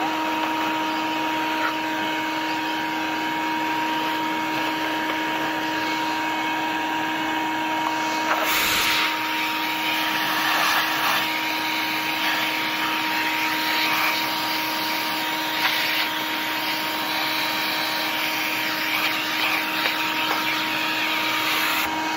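A Bissell PowerForce Helix upright vacuum cleaner runs over carpet picking up dirt, a loud, steady close whine and whoosh of suction lasting throughout, with a brief bump and rattle partway.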